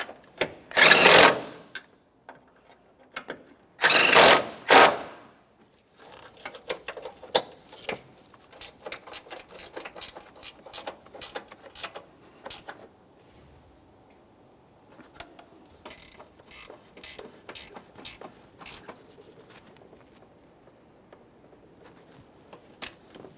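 Ratchet snugging up the lower control arm bolts on a 2014-2019 Toyota Corolla: two loud bursts of mechanical noise, then runs of quick, crisp clicking strokes repeated in uneven sets, close by and otherwise quiet.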